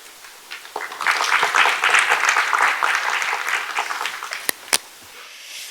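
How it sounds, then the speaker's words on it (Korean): Audience applause following a symposium presentation on smart agriculture, swelling after a moment, holding steady for a few seconds, then tapering off with a couple of sharp final claps. "안동혁 박사님께 다시 한번 큰 박수 부탁드립니다"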